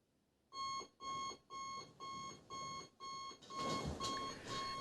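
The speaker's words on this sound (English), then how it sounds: "In my house, I found an analog clock that my parents use it." An analog alarm clock rings in loud bursts, eight evenly spaced metallic rings close to the microphone after a brief quiet start, with the last few running together more densely.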